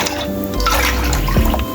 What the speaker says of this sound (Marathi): सेम त्याच वाटीने मी 4 वाटी पाणी घालणार आहे।